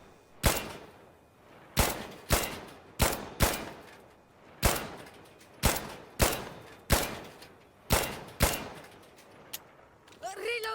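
Single rifle shots ring out one at a time in Insurgency: Sandstorm, about a dozen loud, sharp reports spaced roughly a second apart, each with a short echoing tail, and a voice comes in right at the end.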